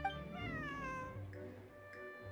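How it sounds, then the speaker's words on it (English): A cat in the video game Genshin Impact lets out a drawn-out meow that rises and bends in pitch, then a couple of shorter chirps follow, clear and close. "This is my friend's cat."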